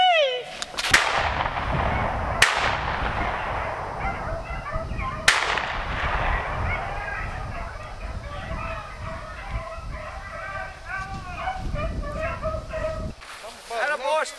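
Several sharp gunshots ring out during a rabbit hunt with dogs, three loud reports early followed by a busy outdoor scene with birds or hounds calling and people talking throughout.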